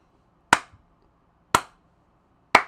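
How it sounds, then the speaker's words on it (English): Three sharp hand claps ring out alone in a quiet room, evenly spaced about a second apart, each a crisp close snap with a short decay. "Like if I clap,"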